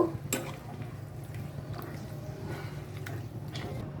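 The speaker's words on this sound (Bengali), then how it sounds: "মাংসগুলোকে এখন আমি একটু নেড়ে ছেড়ে দিব" Half a kilo of beef pieces with fat and bone being stirred in a hot pan, giving a steady low cooking rumble with a few scraping clinks of the spoon against the pan near the start.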